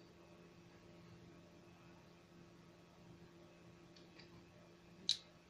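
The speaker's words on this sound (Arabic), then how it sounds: "ده صوت البرتمان، لان انا حطاه في المية، الهواء التكة ديت" Glass jam jar sitting in water while strawberry jam is made lets out a single sharp click as air escapes its lid, heard once near the end over quiet room hum.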